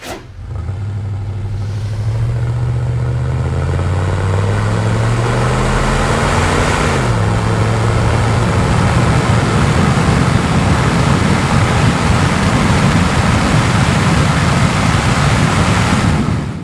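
A 1992 Dodge Dakota 4x4 pickup with a V6 engine pulls up through a gear shift to cruising speed, a steady engine drone rising in pitch and then settling into continuous road and tire noise, heard from inside the cab.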